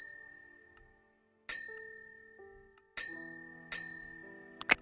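Three crisp dings from a Minecraft furniture-mod service bell made of iron, struck at irregular intervals, each ring loud and close with a long shimmering decay, plus a faint click at the very end.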